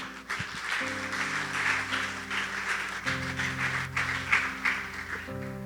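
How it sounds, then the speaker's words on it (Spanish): Congregation applauding at a church service, a steady broadband clatter of many hands sustained throughout while a sustained organ or keyboard chord plays beneath and changes several times. "Dele un fuerte aplauso al Señor"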